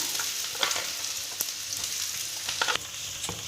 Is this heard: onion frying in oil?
yes